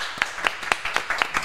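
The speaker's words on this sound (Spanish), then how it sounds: "Un aplauso para Dieguito." A few people clap together for Diego at a tavern-style talk show set. The claps come as sparse, uneven bursts over a short stretch, fairly close and modest in volume, with no speech over them.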